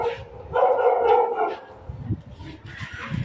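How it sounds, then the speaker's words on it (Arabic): Dogs bark and howl in a derelict, abandoned lot in a rundown neighborhood, a drawn-out yowling bark followed by scattered fainter yips at a moderate distance. "صوت الكلاب والقطط."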